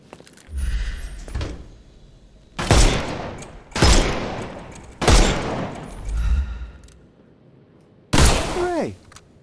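Gunfire in a Sherlock Holmes video game as enemies' armour is shot off: a handful of sharp, loud bursts spaced a second or two apart, each with a short rumbling tail, separated by quiet gaps.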